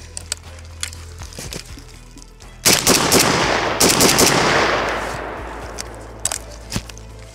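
Bulgarian AK-74 (Arsenal SLR-104) rifle, soaked in water, firing outdoors: a few scattered single shots, then a loud rapid string of shots with a long echoing tail, followed by more sporadic shots.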